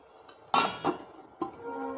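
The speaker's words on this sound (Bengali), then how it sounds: "জলটা দিয়ে এবার একটু ঢাকা দিয়ে রাখবো।" A metal lid set down over a cooking pot after water is added to frying spices, giving a few sharp clanks and clinks, the loudest near the start, followed by a fainter knock and a lingering ringing tone.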